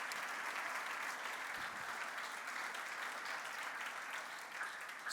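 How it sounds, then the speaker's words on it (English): Audience applauding a primary school children's choir, a sustained, even wash of clapping throughout with no voices over it. "I just want to give our kids another round of applause."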